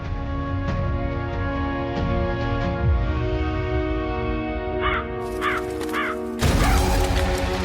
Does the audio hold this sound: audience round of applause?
no